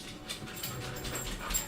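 Dogs in a room during a raw-meat diet livestream pant and whimper faintly and steadily throughout, close by but soft, with no talk over them.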